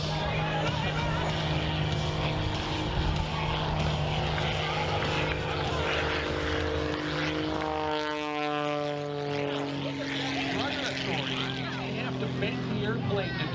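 A propeller-driven aerobatic airplane with an MT propeller flies a knife-edge pass at the 2021 Great State of Maine Airshow, its engine drone steady and loud with a shifting pitch as it passes, with a commentator talking over it.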